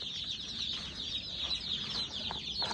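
Young chicks in a brooder with steady high-pitched peeping and soft chirps, a continuous chorus of many birds close by, with light scratching and pecking sounds underneath.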